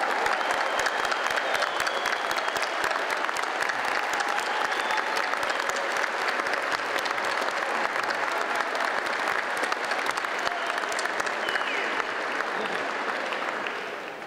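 A crowd gives warm, sustained applause for foremen, team leaders, medics and staff, loud and continuous clapping filling the room throughout and easing off only slightly at the very end.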